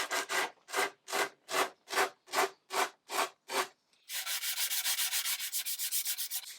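Sandpaper is worked by hand along painted table edges, first in about nine even back-and-forth strokes, then in a faster continuous run of short scrubbing passes, close and clear, with no one speaking.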